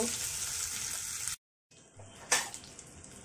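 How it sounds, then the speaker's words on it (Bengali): Mango pieces fry in hot oil left from frying potatoes for a Bengali mango-and-koi fish dish, giving a steady close hiss. The sizzle cuts out briefly, then resumes with one sharp stirring scrape, and no one talks. "এটাকেও লাল লাল করে ভেজে নিব।"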